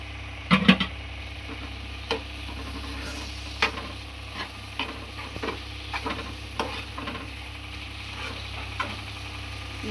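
Chopped tomatoes added to spiced masala in a pan, a low steady sizzle under scattered stirring clatters and scrapes, with a faint hum running beneath, close and moderately quiet.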